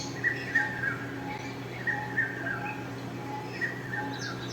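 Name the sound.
bird chirping as a cartoon bird flies away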